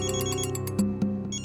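A phone rings with an incoming call, its electronic ringtone playing as a bright, repeating musical tone with sharp pulses, loud and close with no talking over it.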